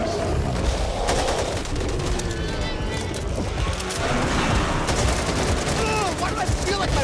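Dense automatic gunfire from a Back 4 Blood shooter match, loud bursts and rapid repeated shots filling the whole stretch, with shouted game voices and clanking effects mixed under the firing.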